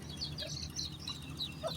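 Chickens at a farm pond give faint, scattered clucks and short calls over a low background hum.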